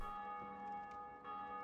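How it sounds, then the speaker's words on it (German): A bell in Dark Souls Remastered sounds a steady, sustained metallic tone with a long ringing resonance at moderate distance and nothing else over it. "Die läutet schon relativ häufig, die Glocke."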